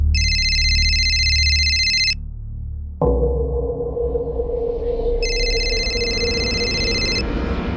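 A telephone rings in two loud electronic bursts with a pause between, and a steady low room noise fills the gap after the first ring.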